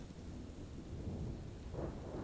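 A summer thunderstorm with torrential rain, a steady heavy roar of downpour with low rumbling thunder building underneath, no voices.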